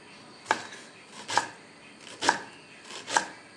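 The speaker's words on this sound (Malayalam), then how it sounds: "അപ്പോൾ ഉള്ളി മുറിച്ചുകൊണ്ടിരിക്കുകയാണ്." A knife chops onions on a board for onion vada: four crisp, evenly spaced chops about a second apart, close and clear against a quiet room.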